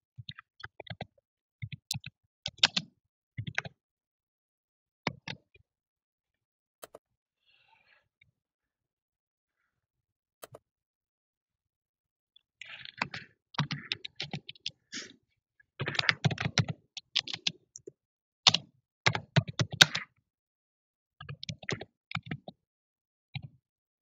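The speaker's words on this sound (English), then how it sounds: "Then type your title." A computer keyboard being typed on to enter a blog post title, bursts of close, crisp key clicks in irregular runs separated by pauses, no talking.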